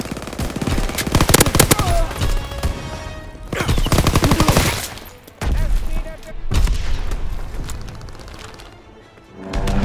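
A fighter plane's strafing run in Call of Duty WW2 multiplayer on Groesten Haus, with loud, dense bursts of machine-gun fire and booms in several waves. Voices sound faintly beneath the gunfire.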